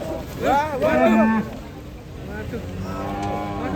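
A cow being unloaded from a truck moos loudly twice in quick succession, close by, followed by quieter lowing and some background noise.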